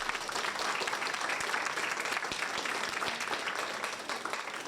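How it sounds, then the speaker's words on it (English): Audience at a school board meeting applauding, a dense, even wash of many hands clapping from a distance that holds steady and then eases slightly at the end. "I'm going to ask that you all hold your applause just in the sake of time."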